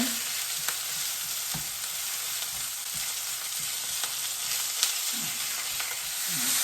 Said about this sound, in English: So we're cooking it up, we're breaking it up as we go.